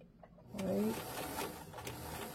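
A sewing machine stitches a short run down a garment seam, stopping where the seam allowance ends, a brief close whirring burst that rises then settles into a steady softer hum.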